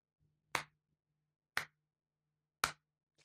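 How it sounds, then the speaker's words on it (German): Three sharp, isolated hand claps ring out about a second apart, fairly quiet against an otherwise silent background. "Mehr und doller kann ich nicht klatschen"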